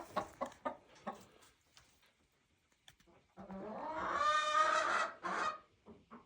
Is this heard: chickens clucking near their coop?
yes